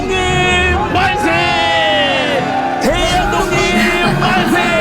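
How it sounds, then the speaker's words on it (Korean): A crowd at a Korean independence movement re-enactment cries out together in loud, sustained shouts and whoops, voices overlapping into a dense roar that swells and surges across the moment. "함성 소리가 지금 조금씩 들려오고 있어"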